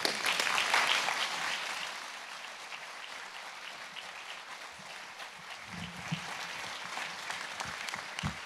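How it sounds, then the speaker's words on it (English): An audience applauds guests walking onto a stage at a library opening event. Dense, steady clapping is loudest at the start and then holds at an even level. "Give them a warm applause."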